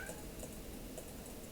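A pet cat meows faintly in the background of a quiet room, a few soft, brief calls over a low steady hiss, distant and low in level.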